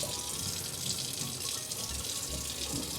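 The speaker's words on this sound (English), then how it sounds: "I'm just going to rinse this out" Running water rinses out part of a Wybot Hyson cordless handheld pool vacuum, a steady close splashing flow with slight gurgles throughout and no one talking.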